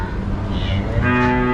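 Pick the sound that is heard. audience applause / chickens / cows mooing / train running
cows mooing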